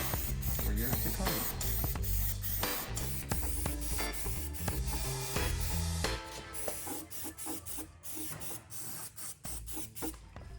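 Flaxseed-type grease sprayed into the rocker panel of a Ford Transit van, a loud continuous spray hiss for about six seconds, then quieter broken bursts of spraying and rubbing.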